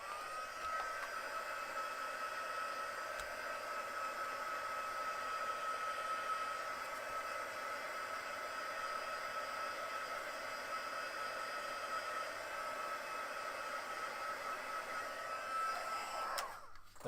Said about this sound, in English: Let's just grab the heat tool and get rid of those black lines.